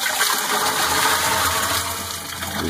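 Loop conditioner is poured into the water of a geothermal system, producing a loud, steady rushing gush of liquid that runs throughout and eases slightly near the end.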